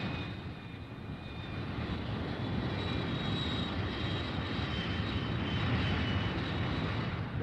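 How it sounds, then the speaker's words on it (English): Fighter bomber aircraft take off from an air base, a loud, steady roar of engines with a broad rumble and a faint high whine, building slightly and holding throughout. "Back at the base, the fighter bombers take off."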